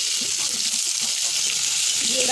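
Chopped onion hitting hot oil already seasoned with whole garam masala and bay leaf for a Bengali crab curry, giving a steady, close, broadband sizzle that holds evenly throughout with little variation.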